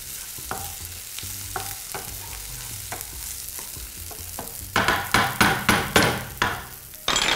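A spoon scrapes and stirs food in a frying pan with a soft sizzle, steady strokes at first, then a run of sharper, louder rhythmic scrapes and knocks near the end, with no talk.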